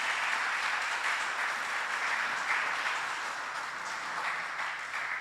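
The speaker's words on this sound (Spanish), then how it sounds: "¿Cuántos le pueden dar un aplauso a ese Rey maravilloso?" Steady applause from a congregation during a Spanish-language church sermon, a dense, even wash of clapping that continues throughout at moderate volume with no voices over it.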